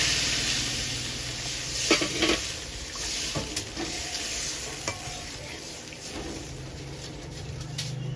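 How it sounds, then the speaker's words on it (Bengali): Homemade spice paste for pointed gourd and prawn dolma frying in a pan, a steady loud sizzle with scraping stirs and occasional utensil clinks against the pan, close up and with no talking. "এটা ভেজে বাড়িতেই মশলা তৈরি করা পেস্ট করে নিয়েছি এইটা এখন আমি দিয়ে দিলাম"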